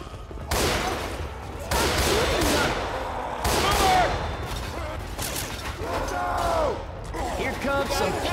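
Rapid gunfire bursts from Left 4 Dead 2 during a Dead Center versus match, loud and repeated in clusters across the clip, with game voices calling out between volleys.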